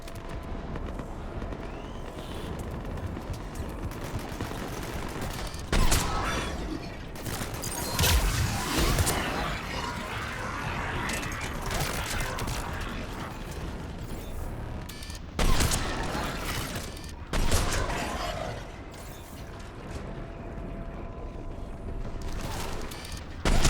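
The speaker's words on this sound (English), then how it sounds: "There's the artillery." Booming explosive artillery fire and battle noise from the Mass Effect 3 video game, with repeated loud blasts around the six, eight, fifteen and eighteen second marks over a dense, continuous rumble of combat.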